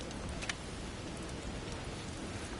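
Stormy rain in Alfheim in the video game God of War, a dense, even hiss of falling rain with a faint low rumble, steady and moderately quiet.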